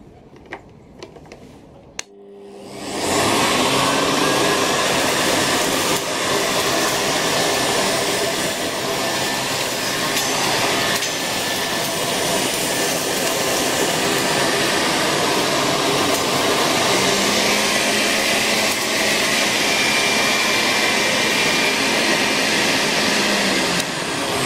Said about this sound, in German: Probieren wir jetzt mal den Staubsauger aus.